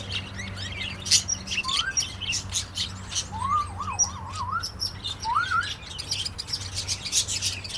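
Busy bird chirping and tweeting throughout, with a few rising whistled calls over a low steady hum and background noise.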